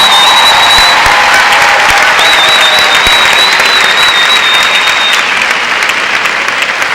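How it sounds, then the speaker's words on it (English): A large graduation audience applauds the high school class of 2018, a dense, loud, continuous roar of clapping with a thin whistle threading through it. "Please give them a round of applause."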